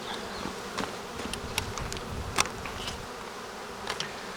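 A honeybee swarm buzzes at the hive entrance with a steady, dense hum and individual bees zipping close past now and then, no talk.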